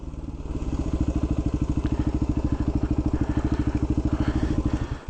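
Dirt bike motorcycle engines idle in mountain country at about 7,100 feet, a steady, close, rapid putt-putt pulse that runs evenly for several seconds before cutting off at the end.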